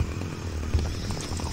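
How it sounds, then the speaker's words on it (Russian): Chainsaw revving in the Manhunt video game, a steady low motor drone with a brief louder surge partway through, fairly close and with no talk over it. "Ну то включи пилу."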